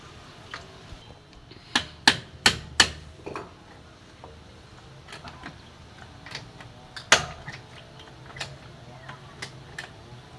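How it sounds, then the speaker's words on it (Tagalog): Several sharp metallic strikes, a quick cluster of four blows followed by scattered lighter taps, hammering at moderate distance with quiet background noise. "Martilyo."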